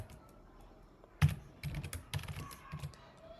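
Soft clicks of typing on a computer keyboard come in a few quiet, irregular bursts of keystrokes, close and alone.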